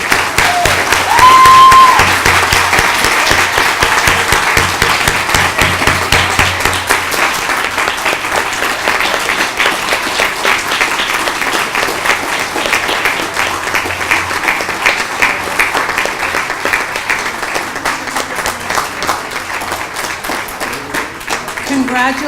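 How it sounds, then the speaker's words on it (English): An audience at an adult basic education achievement celebration applauds the graduates, long loud rippling clapping that slowly thins toward the end, with a brief voice near the start. "Let us have a round of applause for all the graduates"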